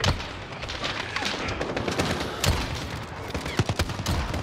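Rapid bursts of machine gun fire crackle through a Call of Duty Modern Warfare match, with dense overlapping shots and a few sharper reports, fairly close and continuous.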